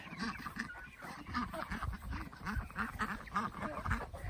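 Several Ancona ducks quack in a busy, overlapping chorus nearby at a pond, with honking calls mixed in throughout.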